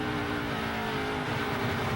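NASCAR Nationwide Series race car engine, a steady loud roar held for two seconds with harmonic whine, heard close without voices.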